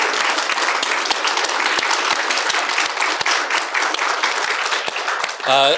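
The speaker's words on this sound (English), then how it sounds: "We should clap as we do this as well." Audience members clap for Jenne Nolan, first-prize winner of a poetry competition: close, loud, continuous applause with sharp individual claps poking through, and a voice rising briefly at the very end.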